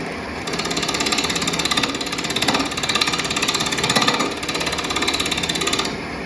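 A 1/4 inch bowl gouge takes small bevel-rubbing cuts into wood spinning fast on a lathe while turning a ring and jewelry holder, giving a loud, continuous rhythmic chattering scrape with a rapid pulsing texture and no talking.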